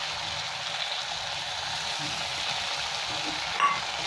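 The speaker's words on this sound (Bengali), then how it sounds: "এবার আমি আদা রসুনে দিয়ে দিলাম একটা বেটে রেখেছিলাম।" Ginger garlic paste frying with onions in a pan, a constant soft crackling sizzle close by, with one small utensil tap near the end and no talk.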